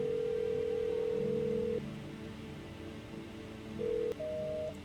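A steady electronic telephone dial tone in the video game No, I'm Not a Human hums, breaks off, then returns briefly with a short higher beep near the end, with faint background noise.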